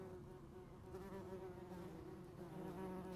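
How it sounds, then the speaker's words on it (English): Yellow jacket wasps buzzing steadily, a thin droning hum that wavers slightly in pitch, faint and continuous with no voices. "So the queen yellow jacket wasp starts a nest underground."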